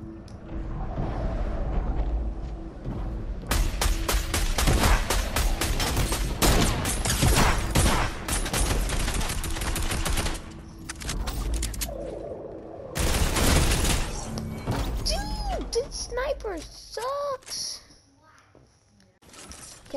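Rapid bursts of gunfire come from a gun in a video game, with dense automatic volleys repeating over the clip. Gaps fall between the bursts, and other game effects sound near the end.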